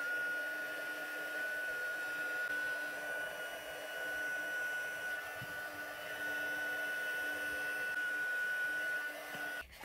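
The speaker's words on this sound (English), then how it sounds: "I'm going to use my heat tool to melt the embossing powder on both of those." A handheld heat tool melting embossing powder on cardmaking pieces gives a steady, close blowing whir with a fan hum that runs continuously for nearly ten seconds and cuts off at the very end.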